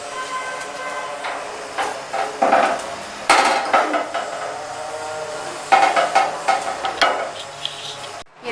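Burger buns toasting in a little oil on a street-food griddle give a steady loud hiss, with occasional clanks and scrapes of a spatula or metal tools on the hot plate.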